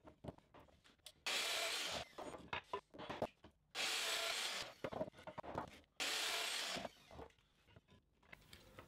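A domino joiner plunges into wood three times to cut mortises for 8mm by 40mm dominoes, each cut a loud, close whirring burst of about a second and a half, separated by quieter handling noises.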